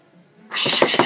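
A voice imitates a creature's heavy breathing: a soft low murmur, then a loud, breathy rasping burst with a few pulsing swells, close and alone.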